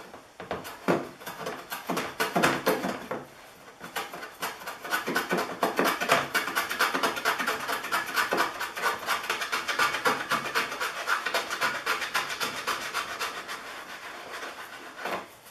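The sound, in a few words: wood hand plane trimming a Kreg jig dowel plug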